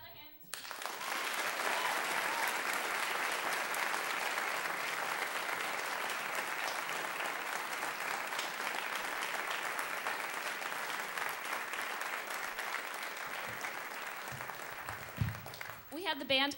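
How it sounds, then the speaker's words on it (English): Sustained applause from a large audience at a high school fall band concert, steady and full for about fifteen seconds, then tapering off abruptly near the end. "that nice round of applause"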